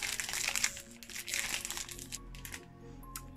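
A plastic snack wrapper crinkles and crackles as it is pulled open with effort, a dense close rustling that eases off toward the end, with no talking.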